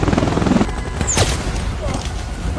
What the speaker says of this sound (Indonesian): tiba-tiba musuh melepaskan tembakan